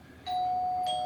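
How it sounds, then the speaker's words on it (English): A single electronic cruise ship cabin doorbell chime rings, a clear two-tone ding that sustains close up against faint room noise. "you have a little doorbell and they can announce themselves"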